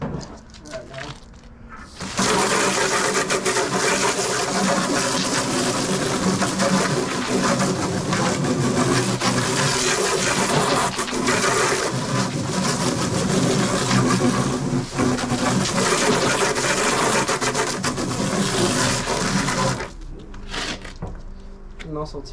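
Water rushes steadily over a dirty slash bar being rinsed, a dense continuous spray that runs loud for most of the stretch before cutting off, with softer sounds at either end.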